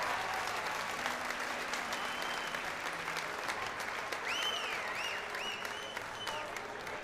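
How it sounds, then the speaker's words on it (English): An audience applauds the senior finalists of a sheep shearing contest at the Balmoral Show, sustained clapping under a faint voice, with high whistles rising over the crowd. "Put your hands together for the senior finalist."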